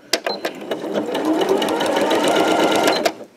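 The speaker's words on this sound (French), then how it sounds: "on coud sur la ligne en point droit jusque là" A sewing machine stitches a straight line on a tote bag, starting with a few single clicks, then a rapid, even mechanical whirr close up that runs for a few seconds before stopping abruptly.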